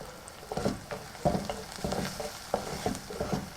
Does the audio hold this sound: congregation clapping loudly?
no